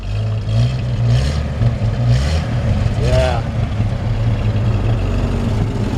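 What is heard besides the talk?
old pickup truck engine running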